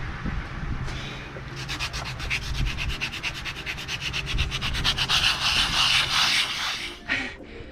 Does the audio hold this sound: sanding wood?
yes